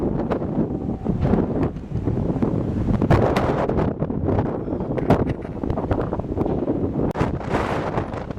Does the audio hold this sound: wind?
yes